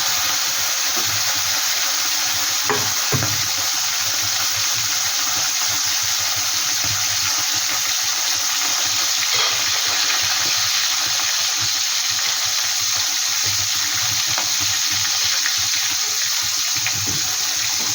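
Koi fish frying lightly in oil, a dense continuous hiss and crackle that stays loud and steady throughout, close by, with no talking.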